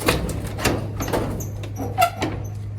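A sliding shop door on an Arkansas hay farm rattles and scrapes along its track in a few close, uneven bursts with a faint squeak.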